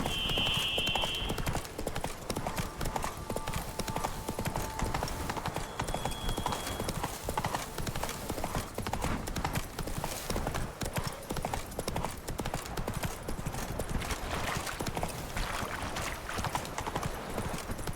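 Roach the horse galloping in The Witcher 3 Blood and Wine, rapid rhythmic hoofbeats pounding continuously throughout, with game music and effects layered beneath.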